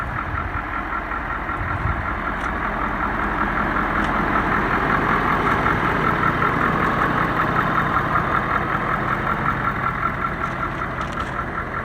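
A wrecked Ford 6.7 Powerstroke diesel truck engine idles loud and close, a steady rumbling drone with a rapid clattering pulse, no voices.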